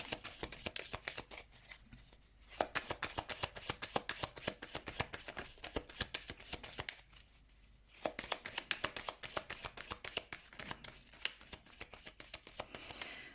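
Tarot cards being shuffled for a reading, heard as close, rapid riffling and crackling bursts with two brief pauses, and no talking.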